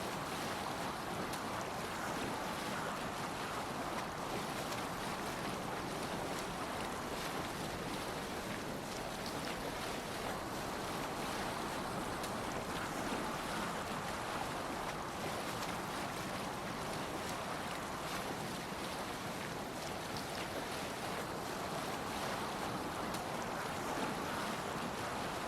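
A sailing ship rides the waves in Assassin's Creed Valhalla, with a constant rush of water and wind noise that stays steady and full for the whole stretch and no voices.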